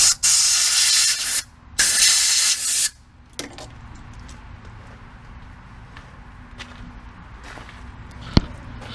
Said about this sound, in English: I'm going to blow the holes out with an air gun.